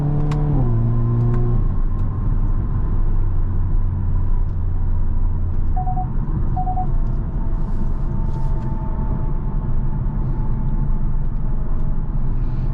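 A 2023 Hyundai Kona N hatchback with 276 horsepower drives under load, a loud, close, constant engine drone and road rumble with a brief shift in pitch near the start, heard from inside without talk.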